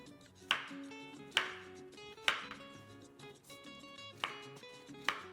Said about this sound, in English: Now we're gonna cut them in small bites.